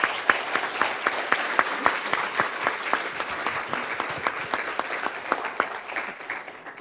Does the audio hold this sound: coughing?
no